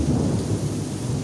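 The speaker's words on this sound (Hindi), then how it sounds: "देखिए देखिए कितनी ज़ोर से बादल गरज रहे हैं" Loud thunder rumbles low and heavy through a pouring rainstorm, with steady rain hiss beneath it and no voices.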